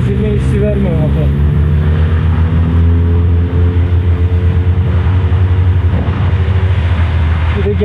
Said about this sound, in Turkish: Kesilme hissi vermiyor motor.